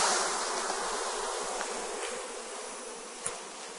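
Honeybee workers shaken off a brood frame fill the air with a dense, continuous buzzing swarm, close and steady throughout, with no voices over it.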